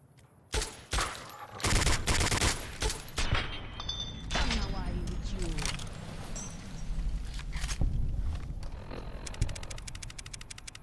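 Rapid bursts of Tommy gun fire in Fallout New Vegas crackle in quick volleys, loud and close. Someone talks over the shooting.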